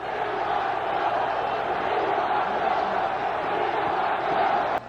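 Football stadium crowd during a Giants versus Bills game, a dense, steady roar of many voices chanting and yelling for Terry Miller, loud and continuous throughout with no break.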